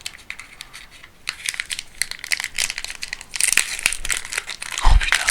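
Foil wrapper of a Pokémon Scarlet & Violet Obsidian Flames booster pack crinkling and tearing open up close, a busy run of crisp rustles that swells louder toward the end, with no talking over it.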